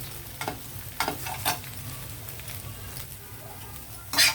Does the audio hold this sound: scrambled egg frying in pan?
yes